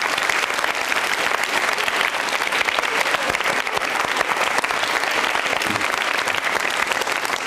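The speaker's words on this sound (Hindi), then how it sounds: "तालियां जोरों से बजाइए एक बार आप." Loud, dense applause from a quiz show audience of college students fills the whole stretch, steady and unbroken from start to finish.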